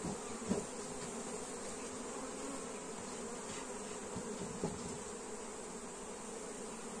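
A honeybee swarm, caught in a forest trap and poured out at a hive, hums in a steady, dense drone, close and continuous, with a couple of faint knocks.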